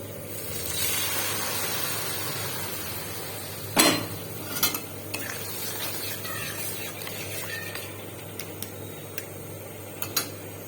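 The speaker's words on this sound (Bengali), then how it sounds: "দিয়ে এটাকে আবার ভালো করে কষাবো" A spoon scrapes and clinks against a pan while spice paste is stirred for a vegetarian soybean curry made without onion or garlic, a few sharp knocks over a soft steady background hiss.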